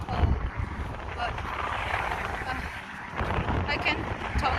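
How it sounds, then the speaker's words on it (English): Gusty wind buffets the microphone on a cold day beside the Mississippi River in Minneapolis, a steady broadband roar that swells toward the end, with someone talking under it. "It's getting windy and so cold."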